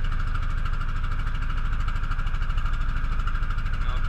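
A rented motorboat's engine runs steadily on the water near a coral reef shore in the Philippines, a continuous loud drone with a low throbbing rumble and no talk over it.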